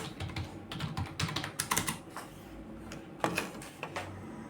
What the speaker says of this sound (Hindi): अब जो भी प्रोडक्ट है वो टाइप कर देना।